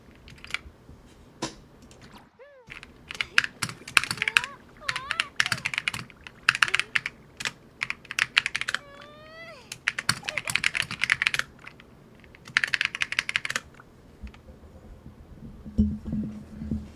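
Fingers type on a repaired computer keyboard in rapid bursts of clicky keystrokes, with short pauses between flurries and a few faint electronic tones underneath.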